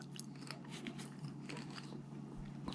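Close, crisp bites and chewing of a juicy honey jar jujube fruit repeat in an irregular rhythm, fairly quiet with no talking.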